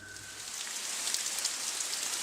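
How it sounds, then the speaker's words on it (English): Heavy rain pours down steadily in an unexpected downpour that escalates into a flash flood, a dense, continuous hiss of drops hitting surfaces with no voices. "an unexpected downpour rapidly escalated into a flash"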